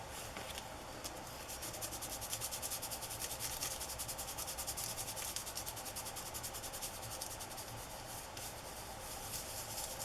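Steady dry rubbing of a tool burnishing foil onto a stamped card, a close, continuous scratchy friction with a light, even rhythm and no talking.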